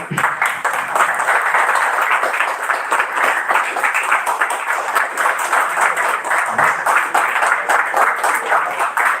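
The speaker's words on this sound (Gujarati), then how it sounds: "તાળી પાડવામાં ઉદારતા રાખજો." A seated audience at a ritual-ceremony workshop breaks into loud, sustained applause, a dense even roar of many hands close by that carries on without letting up.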